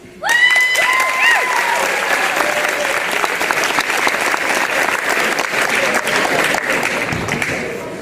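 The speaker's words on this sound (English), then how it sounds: "give one more big round of applause" A large crowd applauds loudly and steadily at a 2022 election results announcement, with scattered cheers and whoops at the start, the clapping sustained throughout.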